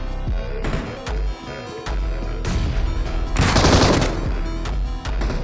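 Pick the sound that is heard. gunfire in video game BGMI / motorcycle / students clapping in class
gunfire in video game BGMI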